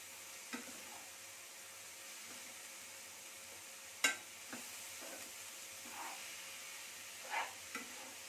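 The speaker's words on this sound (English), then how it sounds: "Now we'll mix the tomatoes and onions till the tomatoes are soft." Tomatoes and onions being stirred in a pan for egg curry, a quiet steady sizzle with a few soft scraping strokes and one sharper clink, no voices.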